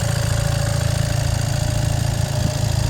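A 2019 Volkswagen Crafter van engine idles steadily up close, a smooth continuous low hum with a constant mechanical drone and no revving or voices.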